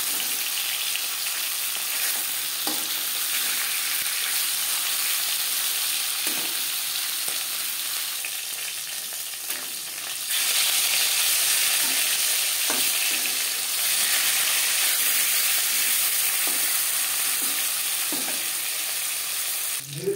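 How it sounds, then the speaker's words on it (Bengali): Pieces of fish fry in hot oil, with a steady, loud, close sizzle throughout and a few soft clicks as they are turned over. The sizzle grows slightly fuller partway through. "মাছ এক পিঠ ভাজা হয়ে গেছে, অপর পিঠ উল্টে দেব।"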